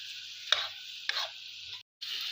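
Chicken leg pieces tossed with salt and ginger-garlic paste in a pan, giving a few soft scraping stirs with a brief clatter, close and fairly quiet, then a steady low hiss of cooking.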